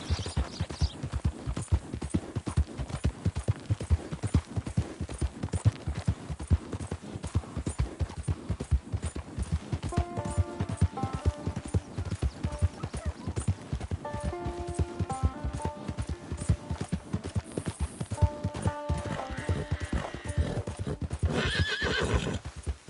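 A horse in Red Dead Redemption II clip-clops at a steady walk, hooves thudding close and even throughout, with a couple of neighs and snorts breaking in over the walking rhythm.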